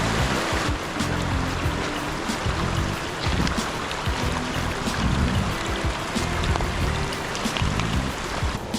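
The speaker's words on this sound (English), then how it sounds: "we're going to walk up this waterfall a little ways and see what we see" Rushing water of a waterfall in Whittier, Alaska, a steady broadband roar close by, continuous and fairly loud with no talk over it.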